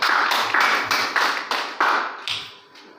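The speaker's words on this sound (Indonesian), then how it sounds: "kita tepuk tangan yang murah betul" A church congregation claps at an online healing service, a few loud bursts of hand claps rising and fading in turn, close and alone with no talking.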